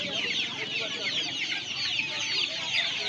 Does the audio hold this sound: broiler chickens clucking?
yes